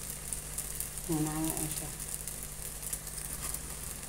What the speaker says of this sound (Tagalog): Iprito lang siya. Hanggat ma-brown siya